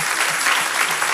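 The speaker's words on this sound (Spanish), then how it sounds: "Dar un aplauso al Señor." A church congregation claps together in praise, a thick continuous burst of applause that stays loud and even across the moment.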